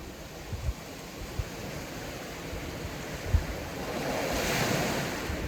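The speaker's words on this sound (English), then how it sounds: "breathe in time to the sound of the sea" Sea waves washing onto a shore in a steady, broad wash of surf with some wind rumble, swelling slightly louder toward the end, no voices.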